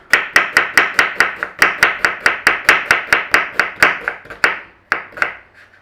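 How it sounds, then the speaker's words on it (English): A knife slices an onion thinly on a cutting board: about twenty crisp, evenly spaced chops in a fast steady rhythm, close and loud, slowing into a few final cuts with no talking. "Now we want some thin sliced onion."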